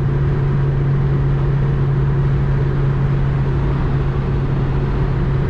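A 1992 Citroen ZX engine drones loudly at highway top speed, a steady, unbroken mid-pitched hum with road roar and no voices.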